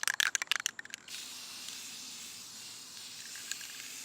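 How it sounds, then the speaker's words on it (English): A brief burst of handling clicks gives way to a steady, faint hiss from an aerosol can of matte UV protective spray coating silk flowers. "I spray my flowers with UV protective spray so they don't fade in the sun."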